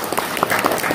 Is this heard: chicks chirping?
no